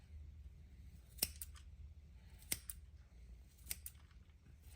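Clean scissors snip red lace mustard greens in a hydroponic home garden: four sharp, crisp cuts spaced about a second apart over a quiet low background hum.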